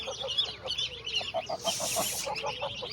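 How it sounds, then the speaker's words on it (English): Geese honking in a pond setting with goslings and ducklings nearby, a series of short, evenly spaced calls at moderate distance over outdoor ambience. "There's nine geese chicks and 7 ducklings."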